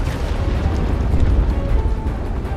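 A car, the Regalia, exploding in the video game Final Fantasy XV, heard as a loud, sustained low rumbling blast that rolls on for a couple of seconds without fading.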